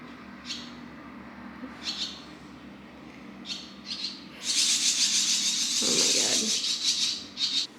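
Several short twittering barn swallow calls, then a loud, sustained burst of chattering chirps from the swallows nearby on a farm, with a brief low rustle beneath.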